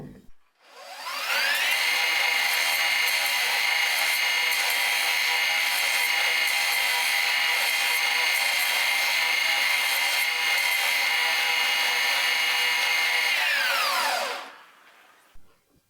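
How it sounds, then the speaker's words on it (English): A knife blade is surface ground in one long, loud, steady grinding pass up close, rising in abruptly and winding down near the end, with nothing else heard. "So what you just saw me doing was a bit of surface grinding just to clean it up a little bit before I start doing a bevel"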